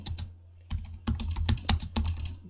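Typing on a Mac keyboard as a macro name is entered, a brief pause followed by a quick run of crisp, close key clicks in an otherwise quiet room.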